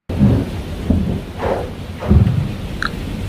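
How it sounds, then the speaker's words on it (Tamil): Low, rolling thunder rumbles in several heavy swells, loud and continuous, as a storm builds before rain, with no voices. "அந்த நேரத்துல மழை வர்ற மாதிரி இடிகள் இடிக்க ஆரம்பிச்சிச்சு."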